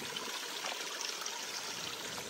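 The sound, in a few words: water flowing out of koi pond skimmer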